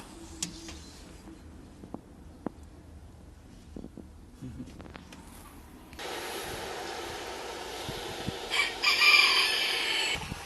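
On a farm yard where a large flock of chickens feeds, quiet pecking and clucking give way to a loud rooster crow near the end, close by and without talk.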